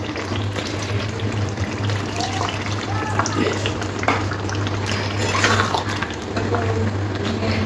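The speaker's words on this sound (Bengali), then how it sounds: "এর মধ্যে এবার একটু জল দিয়ে দেবো।" Water is poured into a pan of yogurt and black pepper chicken cooking on the stove, a steady wash of liquid over a constant low hum, running continuously under faint background talk.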